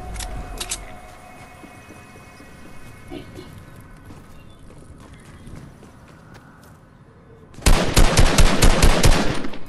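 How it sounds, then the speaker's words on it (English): Gunfire in the video game Fortnite: a short burst near the start, then a loud, dense rapid-fire volley of shots in the final two seconds, with quieter game ambience in between. "Somebody's really shooting me"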